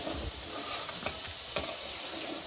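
Steady sizzling of eggs frying in a hot pan, a continuous crackling hiss with a couple of brief scraping clicks.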